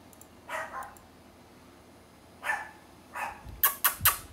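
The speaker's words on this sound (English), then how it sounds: "Sorry, my dog is barking." Indoors, a dog barks in scattered bursts: two single barks spaced apart, then a quick run of three or four sharp, loud barks near the end, with a quiet room between them.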